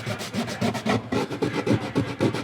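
Sandpaper rubs back and forth on a wooden guitar bridge in quick, steady close strokes, a dry rasping rhythm with no talking.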